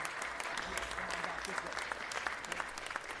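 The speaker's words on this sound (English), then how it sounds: "One more round of applause." Applause from the audience at a city council meeting, steady and fairly faint with some voices underneath, lasting the whole moment.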